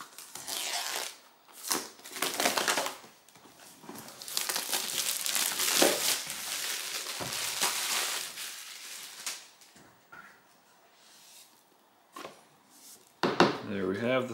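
Packaging of an Amazon eero Pro 6 mesh Wi-Fi system being ripped open: loud crinkling, tearing and rustling in irregular bursts, close to the microphone, with brief pauses between.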